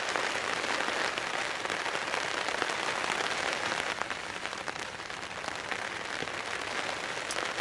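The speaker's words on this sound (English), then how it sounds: "Drinking whiskey to the sound of rain on a tent." Rain drums steadily on a tent at a garden wild camp, a dense, even, close patter with occasional louder drops and no talking.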